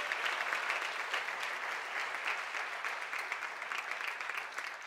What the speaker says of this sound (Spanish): Dale ese aplauso, pero fuerte al Señor.